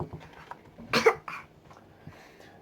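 A single harsh, terrible cough bursts out briefly near the middle of a quiet stretch, close and fairly loud, with faint soft noises around it and no talk.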